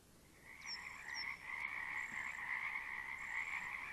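Frogs croak in a steady, continuous chorus with a few higher chirping calls on top, no voices, dense and fairly close.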